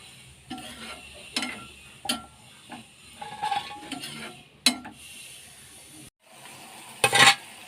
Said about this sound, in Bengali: এবার আমি এখানে একটু জল দিয়ে দেবো মিশিলিটা গলার জন্য